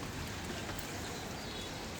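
Rain pours down steadily in a dense, even hiss of drops striking surfaces outdoors while pigeons are flown, with no voices.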